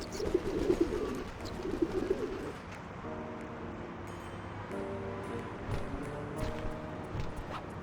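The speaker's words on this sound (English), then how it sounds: "Hello, birds." Pigeons coo repeatedly in the Sly 2: Band of Thieves video game, soft, rhythmic calls near the start that then give way to steady ambient game sound.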